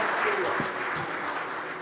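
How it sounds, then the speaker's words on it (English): Steady crowd applause at a business conclave and awards event fills the space, a dense wash of clapping with a voice speaking faintly beneath it. "A huge round of applause once again for Sunil Shetty."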